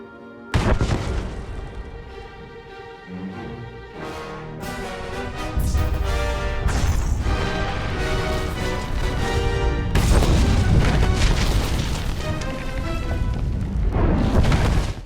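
A bomb detonates in a Star Wars game set on Corellia, and the blast rolls into a long stretch of deep booms and crashing debris, loud and sustained, with layered rumbling that swells again partway through.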